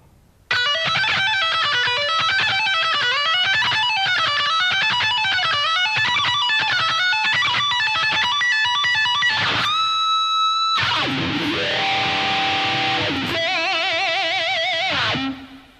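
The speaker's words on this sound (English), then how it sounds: "lick number 10 slow should sound like this" Distorted electric guitar plays a lick at a slow, even pace, repeating note patterns, then sustained bends and a held vibrato note, loud and alone.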